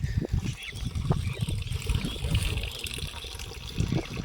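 Water gushing steadily from the 4-inch outlet pipe of a 5HP solar water pump, a continuous close splashing rush with low churning and some handling knocks, heard with no talk.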